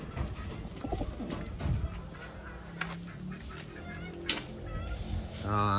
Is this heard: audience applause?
no